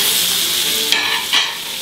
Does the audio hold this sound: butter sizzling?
yes